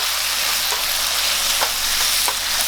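Pad see ew noodles stir-fry with soy sauce in a hot pan, giving a loud, continuous sizzle with faint scraping from the stirring, close and unbroken with no voices.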